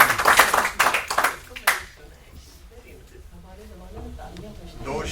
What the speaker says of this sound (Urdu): تسلیم آبا کے لیے تالیاں تھوڑی سی